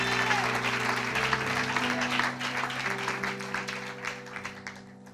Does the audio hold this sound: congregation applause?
yes